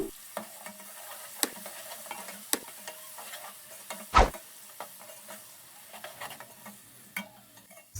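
Garlic-ginger paste frying with lightly browned onions in a pan, a steady close sizzle broken by scraping stirs and a few sharp spatula clicks, one louder knock midway.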